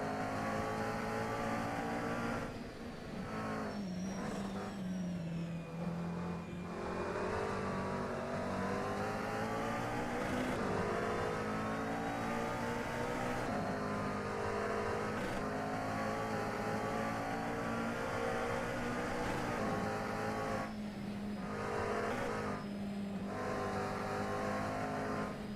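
Onboard McLaren GT race car at Bathurst in the 12-hour endurance race, loud continuous engine drone with upshifts and revving, dominant throughout without talk.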